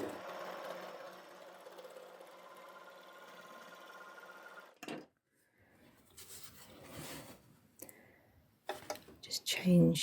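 An overlocker serger stitches through two layers of denim with a steady, fast whirring run for about five seconds before stopping, followed by quieter handling noises and a voice.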